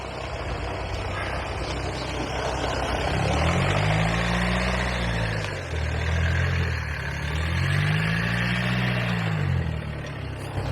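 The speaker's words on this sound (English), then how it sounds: "French car." A French car passes along a quiet village street in Chilham, Kent, its engine note rising and falling twice as it moves by at close range over steady outdoor background noise, with no talking.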